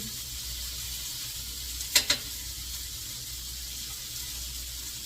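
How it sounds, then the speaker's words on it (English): Vegetables sizzle softly in a skillet for shrimp fried rice, a steady low hiss with two sharp clatters of a utensil stirring partway through, close by and with no talking. "I'm just kind of stirring them around in my skillet to keep them moving"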